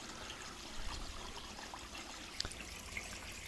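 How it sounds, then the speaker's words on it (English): Water trickles from a small homemade waterfall on a garden koi pond, a soft steady babble heard faint and continuous without any talk. "This is the little waterfall feature that I built."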